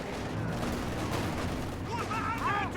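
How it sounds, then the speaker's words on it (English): Machine gun fire raking a grenadier squad in the Company of Heroes 2 strategy game, a dense continuous battle din with rapid bursts and distant explosions, plus brief chirpy effects near the end. "Grenadier squad being hit by the MG."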